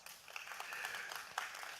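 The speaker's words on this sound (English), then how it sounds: "The applause." Applause from an audience at a public policy forum in Jamaica, quiet and distant, a soft continuous patter of many hands with a few sharper claps standing out.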